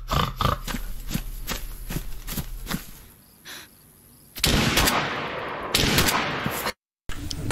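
Gunfire in the DayZ video game: a rapid series of sharp, loud shots in the first few seconds, then a pause and a heavier burst of blasts with echoing tails toward the end.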